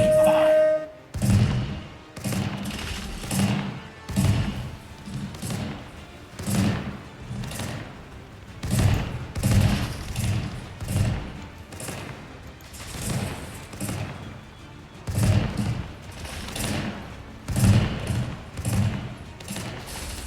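Ship cannons fire repeatedly in the Corsair Cove pirate video game, with heavy booming thuds arriving in irregular bursts over about twenty seconds and a player talking now and then.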